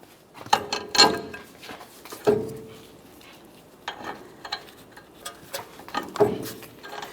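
Ratchet wrench tightening a ball joint mounting nut on a 2004-2008 Ford F-150 steering knuckle, with short bursts of quick metallic clicking separated by pauses, close and clear against a quiet garage background.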